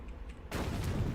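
A sudden loud boom from an explosion on the moon in the game Astroneer, a sharp onset followed by a dense rumbling roar that holds to the end, close and alone.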